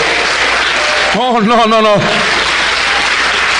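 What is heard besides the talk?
audience applause in church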